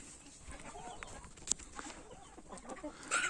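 Chickens and roosters clucking softly nearby with a sharper squawk or two, over a quiet outdoor background.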